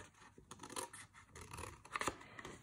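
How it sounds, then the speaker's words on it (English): Scissors trimming a paper envelope tab along a score line, with a few close, crisp snips and slicing sounds over about two seconds at a quiet level. "I'm going to trim up and cut this tab off."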